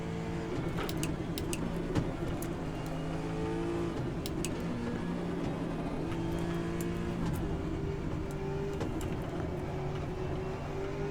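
A hypercar engine in the sim racing game Automobilista 2, holding a loud, steady high-revving drone with shifting pitch as gears change, close and continuous for the whole span.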